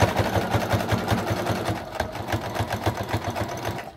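A close sewing machine runs continuously as it stitches around a fleece hat, with an even, fast mechanical pulsing that holds from start to finish.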